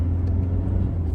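A Toyota Hilux GR-S engine accelerating after a downshift in power mode, a brief low, steady rumble from inside the cabin.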